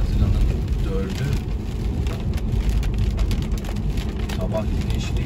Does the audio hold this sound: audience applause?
no